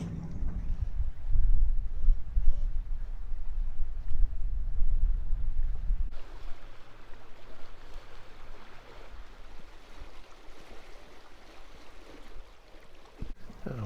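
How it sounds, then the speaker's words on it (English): Steady rushing wind and water noise aboard the sailing catamaran on a broad reach near the Chicken Islands, low rumbling buffeting at first, then a thinner, lighter hiss of air and sea. "the wind gets very light in here"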